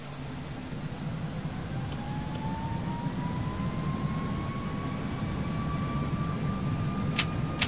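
Simulated aircraft engine at takeoff in the Prepar3D flight simulator, a steady broadband roar with a slowly rising whine building over several seconds, with a few faint clicks.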